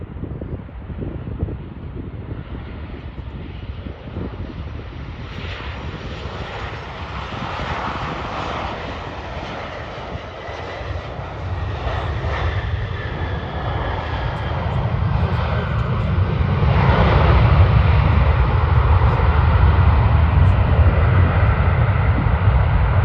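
A Delta airliner lands on runway 12 right at Minneapolis, its jet engine roar rumbling under gusty wind noise and growing louder and deeper toward the end as the aircraft draws nearer.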